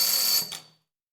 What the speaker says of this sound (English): Makes the engraver work.